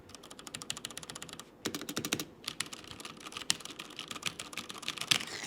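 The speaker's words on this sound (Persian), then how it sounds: "اما توی کیبوردهای مکانیکال اینطور نیست و این باعث میشه که هم حس خیلی بهتری بهتون بده زدن دکمه ها، هم صدای خیلی بهتری داشته باشه" Fast, steady typing on an ADATA XPG Summoner mechanical keyboard produces dense runs of crisp, clicky keystrokes heard close and alone, with a brief pause before the rapid tapping resumes.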